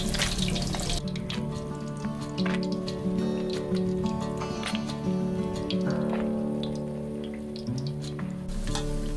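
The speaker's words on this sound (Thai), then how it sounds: "เวลาที่เราทอดอีกด้านนึงเนี่ยมันจะไม่นานเท่าครั้งแรกแล้วนะคะ" Snakeskin gourami fish frying in a pan on its second side, a steady close sizzle with small pops and drips, joined by a low tonal hum throughout.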